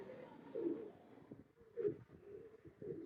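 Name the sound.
Rampuri teddy pigeon cooing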